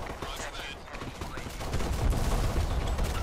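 Dense, continuous minigun fire roars in the online shooter BlackSquad, a steady blanket of rapid shots that swells louder and heavier partway through, with voices talking underneath.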